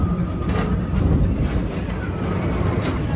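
Magic Kingdom PeopleMover ride vehicles rolling along the track, a steady low rumble with soft rhythmic clacks and whirring, continuous and fairly close, with no talking.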